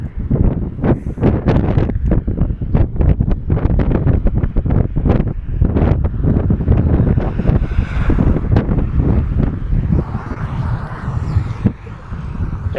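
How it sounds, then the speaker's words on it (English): Wind buffets a handheld microphone during a Midwest tornado storm chase, a loud, continuous roaring rumble with rapid gusting thumps that eases slightly toward the end; no speech. "sorry about the wind"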